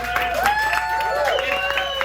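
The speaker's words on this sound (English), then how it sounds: "Round of applause for all of our comedians and improvisers keeping up." An audience at a comedy improv show claps and cheers for the performers, with crowd applause blending with voices throughout the brief stretch.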